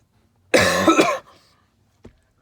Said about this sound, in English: I'm fucking coughing like a motherfucker